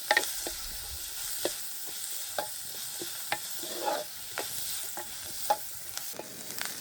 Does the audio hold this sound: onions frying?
yes